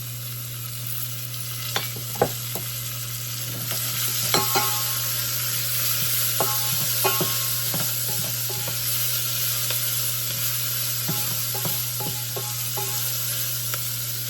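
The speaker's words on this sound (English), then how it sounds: "Just sweat those onions out till they're nice and tender" Shallots sweat in olive oil with a constant soft sizzle beneath a steady hum, broken by scattered utensil clicks and stirs, close and without voices.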